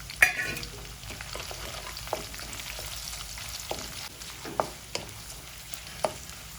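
Peanuts, curry leaves and dry red chillies fry in hot oil for a bisi bele bath tempering, giving a steady close sizzle broken by several sharp stirring clicks and scrapes, with no talking.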